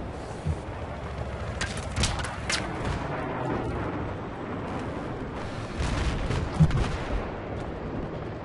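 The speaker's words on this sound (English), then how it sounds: "A sniper shooting somewhere." Distant gunfire from a sniper somewhere in a video game, a few sharp cracks scattered through a steady bed of game noise, fairly faint rather than close.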